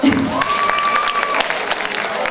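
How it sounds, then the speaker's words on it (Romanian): Short burst of audience applause at a high school freshman ball in Romania, clapping mixed with crowd noise and a brief voice or tone in the background. "Aplauze!"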